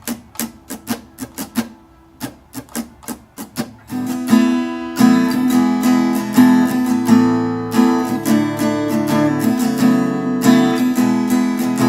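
An acoustic guitar plays the strumming pattern for a song, starting with sparse muted strokes and then settling into a steady, full, rhythmic strum, loud and close.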